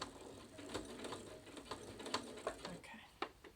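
A home sewing machine runs with a rattling, ratchety mechanical problem, its clattering ticks and knocks repeating unevenly at close range.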